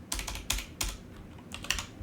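Several quick bursts of keystrokes clatter on a computer keyboard, close and fairly soft, separated by short pauses, with no speech.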